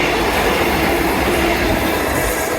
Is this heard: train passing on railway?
yes